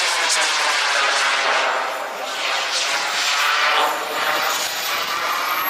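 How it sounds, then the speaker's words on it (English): An F-16 jet lands on a runway at a Florida flight line with a loud, steady roaring engine rush that swells and dips slightly throughout. "Beautiful landing, right on the middle."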